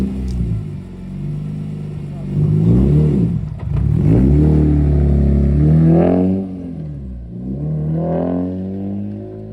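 A BMW E30 M3 fitted with an S54 engine and new high-performance coils runs loud and close, its deep engine note swelling and easing through several rev rises and falls.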